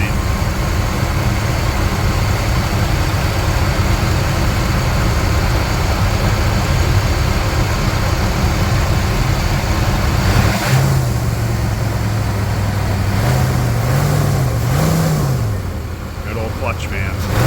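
The engine of a 1993 Chevrolet Blazer, freshly rebuilt with new lifters and a clutch fan, runs at a steady loud idle with a whooshing fan roar, and its pitch wavers briefly near the end.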